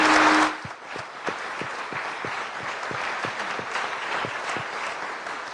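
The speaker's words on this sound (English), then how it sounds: "I think we should give our speaker a round of applause" Sustained applause from an evening lecture audience at the Clinton School, a dense crowd of clapping with distinct individual claps standing out, steady and moderately loud after a brief opening burst.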